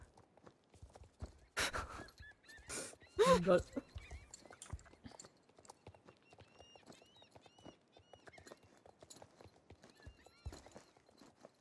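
Horse hooves clip-clopping on the ground in the game Star Stable, soft irregular footfalls throughout, with a louder burst and a whinny early on while a woman briefly exclaims.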